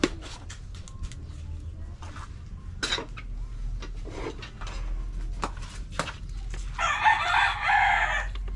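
Chickens cluck and peck around nearby with scattered sharp knocks and scratches, and a rooster crows loudly near the end over the quieter background of the flock.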